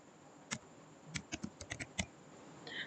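Typing on a computer keyboard while entering an Excel formula, a short run of distinct keystrokes clustered in a burst, close and fairly quiet, with no one talking.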